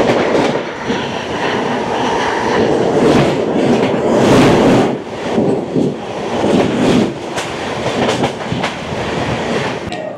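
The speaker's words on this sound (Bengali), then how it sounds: "একটা ক্রসিং আপনাদের দেখাবো, ট্রেন নাম্বার 12558 সপ্ত ক্রান্তি এক্সপ্রেস" Train 12558 Sapta Kranti Express, running from Anand Vihar Terminal to Muzaffarpur Junction, rushes past at close range in a loud, sustained roar with rhythmic clickety-clack of wheels on rail joints across the whole stretch.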